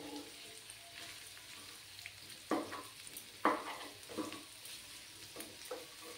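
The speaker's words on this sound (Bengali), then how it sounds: "দিয়ে ভালো করে ফ্রাই করে নিতে হবে, যাতে করে আমার পেঁয়াজগুলো ভাজা হয়ে যায়" Onions and dried shrimp frying in a pan with salt, a steady low sizzle broken by a few louder scraping stirs, fairly close and without voices.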